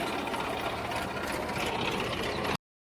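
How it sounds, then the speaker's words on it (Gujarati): A tractor engine runs in a farm field, a steady mid-pitched mechanical drone with a fast rhythmic chatter, continuous and moderately distant until it cuts off abruptly. "ટ્રેક્ટર આવી ગયું"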